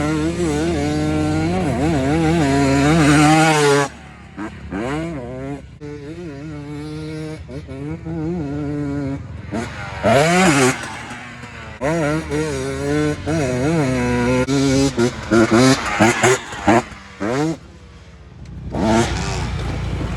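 Two-stroke KTM 300 trike and a big wheel motorcycle ripping across sand dunes, loud engine revving and wailing up and down in rising and falling sweeps, continuous and close with brief dips between bursts.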